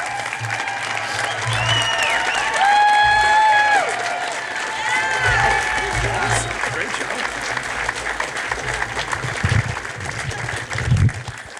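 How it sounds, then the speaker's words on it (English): Crowd applauding and cheering at an outdoor statue unveiling ceremony for a softball coach at Love's Field, sustained clapping with whoops and a voice over a loudspeaker, swelling early then thinning toward the end. "How about one more round of applause for head coach Patty Gasso?"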